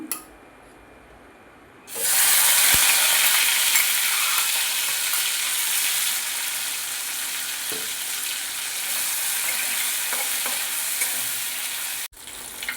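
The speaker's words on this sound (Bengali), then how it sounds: "তেল গরম হয়ে গেছে মাছের তেলটা ভেজে নেব" Fish fat drops into hot oil and erupts into a loud, bright sizzle that holds steady for about ten seconds close by, with a few faint clicks and no talking.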